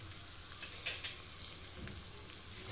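Spices frying in hot oil for buttermilk rasam (majjiga rasam) on a stove, a quiet steady sizzle with a few soft crackles and pops, no voices.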